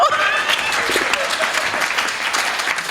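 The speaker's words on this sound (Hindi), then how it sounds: "ताली तो जोर से बजाओ।" Audience at a Hindi comic poetry recital (hasya kavi sammelan) breaking into loud, sustained applause, dense clapping throughout with a faint voice briefly at the start.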